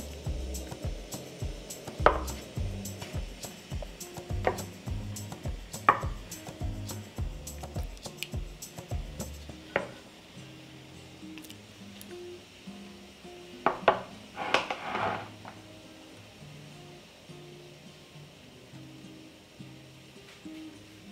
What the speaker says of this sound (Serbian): izvadit ću tegle iz šerpe